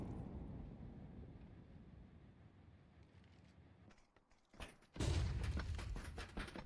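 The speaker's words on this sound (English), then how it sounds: "Flashbang." A flashbang grenade detonates in a Counter-Strike match: a sudden loud, sharp burst around five seconds, preceded by a low rumbling game din and followed by a ringing, noisy tail.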